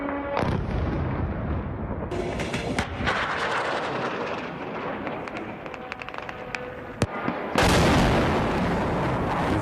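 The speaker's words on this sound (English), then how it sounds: "You hear the buzzing, you hear the explosions." Kamikaze drone strikes over Kyiv: a dense, continuous roar of explosions and sharp booms, loud and close at times, with sudden blasts cutting through the sustained rumble and no speech.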